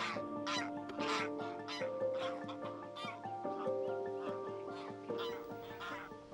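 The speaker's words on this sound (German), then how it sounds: "Im Frühling sind besonders viele Gänse hier. Graugänse, Nonnengänse." Greylag and barnacle geese honk repeatedly in short, overlapping calls at a North Sea coastal marsh in spring, with a steady tonal background running beneath the flock.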